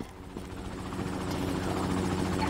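A helicopter in the video game Call of Duty Mobile, heard as a steady rotor and engine drone that slowly gets louder, with no voices over it.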